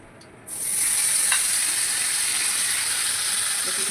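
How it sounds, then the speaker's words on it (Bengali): Chicken goes into hot oil in a wok, and a steady sizzling hiss bursts up suddenly and then holds evenly, fairly loud and close. "ওই কড়াইয়ের মধ্যে আমি এখন এই চিকেনটা ভেজে নেব।"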